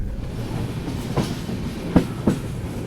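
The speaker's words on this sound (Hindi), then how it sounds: "गाड़ी अपनी सिंधुदुर्ग रेलवे स्टेशन पहुंच रही है" The Mandovi Express passenger train rolls into Sindhudurg railway station, a steady low rumble of carriages with a few distinct clacks of wheels over rail joints, heard from on board without speech.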